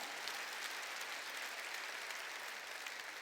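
Congregation at a Korean church service applauding together, a steady, dense wash of clapping throughout, fairly quiet and even with no voices over it.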